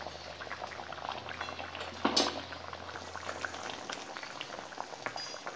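Potatoes boiling in a pan for a parshe fish curry, a steady close bubbling and simmering with one brief louder clatter midway.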